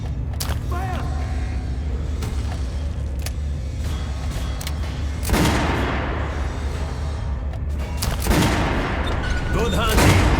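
Heavy gunfire and booming shots in Metro Last Light ring out over a rumbling, busy game soundscape, loud and close, with bursts around the middle and end and voices talking throughout.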